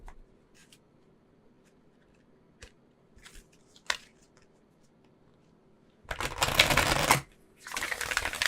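Oracle cards being shuffled, with faint scattered taps and flicks at first, then two loud close riffling bursts of cards near the end, with no talk.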